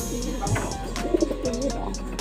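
Racing pigeons coo in a breeder's loft, giving soft, low, repeated throaty calls close by over faint background murmur.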